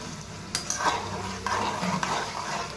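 Ingredients for lemon rice fry in a pan, giving a soft sizzle under a few distinct scraping stirs and light clinks of a utensil against the pan.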